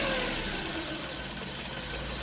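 A Geo Metro engine held at full throttle with a failing ignition coil, so the ignition cuts in and out. It gives a steady, close mid-pitched drone with a rough, uneven edge and no voices.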